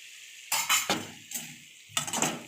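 Fried cabbage pakoda stirred into thick Manchurian sauce, three bursts of spoon scraping and clinking against the pan over a faint sizzle, close and distinct, no voices.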